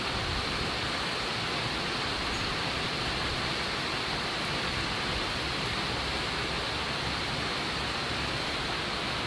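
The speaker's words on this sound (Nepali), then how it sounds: "पानीको बुँद बुँद बुँद बुँद बुँद भइरहेछ मेरो एलोभेरामा" Steady rain falling on garden plants including aloe vera, a dense continuous hiss of drops with no pauses and no talk.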